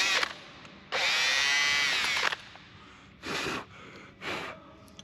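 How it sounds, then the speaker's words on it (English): An overheating, smoking electric drill whirs in a long burst, then two shorter bursts follow after pauses, close and loud against a quiet background. "Go on, drill, don't smoke, don't die me."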